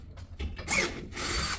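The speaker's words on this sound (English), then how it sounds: "So what I do, pre-drill." Power drill pre-drilling cut timber for boxing in pipes, heard as short whirring bursts that rise into a louder grinding spin and then settle into a steady drilling drone, close by with no talking.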